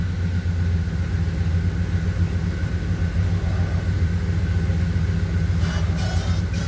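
A 1978 GMC C15 truck engine runs at a steady, loud idle with a constant low rumble, close by, and a faint rattle near the end, with no one talking.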